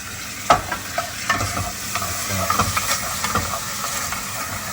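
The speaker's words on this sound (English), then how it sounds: "Just going to add the thick top coconut layer into the pan." Thick top layer of coconut cream heating and sizzling in a pan for Thai curry, a steady close frying hiss with a few stirring scrapes and knocks, no talking.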